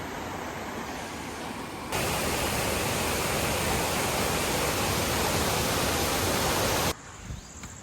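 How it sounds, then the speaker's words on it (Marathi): Bilkas waterfall near a village temple, a dense, loud roar of falling water that swells sharply after a couple of seconds, holds steady, then drops back to a softer background rush. "समोर येतात आपला बिलकसचा धबधबा हा त्याचा कडा आहे मित्रांनो"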